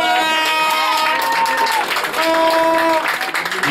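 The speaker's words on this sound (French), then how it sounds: "Sous vos applaudissements," Spectators at a U19 football cup final applaud a substitution, a steady wash of crowd clapping from a distance, with a stadium announcer's voice and whistle-like tones sounding over it.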